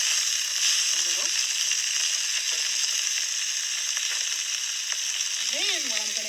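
Collard greens sprinkled with red pepper sizzle and crackle steadily in a hot pan, with a few scraping stirs of a utensil against the pan.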